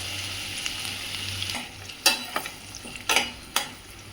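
Onions, green chillies, cardamom, cloves and bay leaf frying in a pan for potato kurma, a soft steady sizzle broken by a few sharp stirring scrapes and clinks, close and fairly quiet with no talk.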